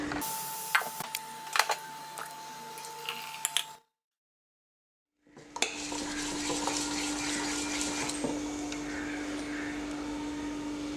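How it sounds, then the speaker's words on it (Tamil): Ragi millet dosa batter with salt being ground from soaked grain in a wet grinder, a steady whirring drone with scattered ticks, broken by a short silence before the grinding resumes louder and denser. "கொஞ்சம் கொஞ்சமாக அரைச்சிக்கிட்டுருவோம்"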